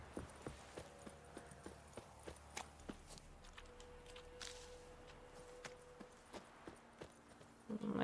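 Roach the horse's hooves clip-clop at a steady walking pace in the video game The Witcher 3, sharp close knocks repeating about twice a second over a faint ambient background, with a louder noise bursting in at the very end.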